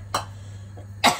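Two harsh, close coughs come about a second apart from someone with a lingering cough, against a quiet room with a low steady hum.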